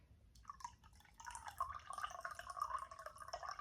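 Very hot rose, lavender and chamomile tea poured into a heat-proof mug in a continuous, bubbling liquid stream lasting a few seconds, close and fairly clear.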